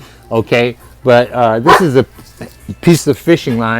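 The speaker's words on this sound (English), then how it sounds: "My dog's starting to holler. It must be somebody or something outside of our door." A dog barking at something outside the door, with sharp, loud bow-wow barks and yips repeated close by and mixed with someone talking over them.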